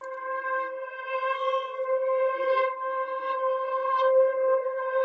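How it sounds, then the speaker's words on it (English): A one-shot sample from the Estrella Sounds Short Circuit kit with a reverse wheel preset, a steady sustained synth tone with a faintly wavering, sonar-like pitch, clean and alone for about five seconds. "it's this WAV file one shot right here from the Estrella Sounds Short Circuit one shot kit, and I used the reverse wheel preset"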